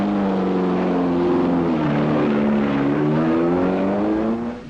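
A Sunbeam Alpine race car at the 1961 Le Mans 24 Hours pulls into the pits, its engine loud and close, the pitch gliding down and back up, then trailing off at the end.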